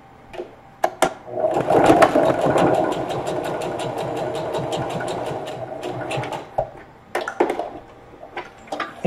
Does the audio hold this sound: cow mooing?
no